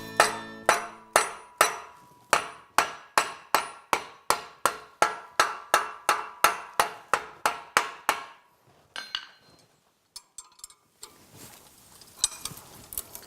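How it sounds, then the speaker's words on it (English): Rapid, evenly spaced hammer strikes on the steel end of a pair of tongs held in a vise ring out about twenty times in a steady rhythm, followed by scattered lighter clanks and scraping of tools. "We'll hammer this little end in the vise."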